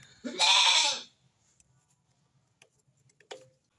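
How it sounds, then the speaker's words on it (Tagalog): A single loud goat bleat rings out close by, followed by near silence broken by a few faint clicks and a short tap. "Maingay itong mga kambing na to kaya labas na natin."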